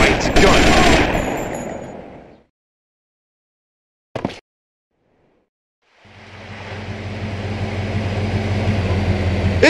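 Gunfire in GTA Vice City Stories: a loud, dense automatic burst for the first two seconds, one short sharp crack after a silence, then a steady rumbling drone that builds and holds to the end.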